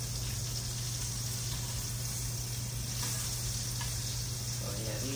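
Country fried steak sizzles steadily in a hot pan, a continuous close crackling hiss of frying oil with occasional faint pops and a low background hum, no talking.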